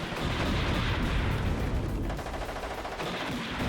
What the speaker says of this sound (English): He's gonna fire a shot.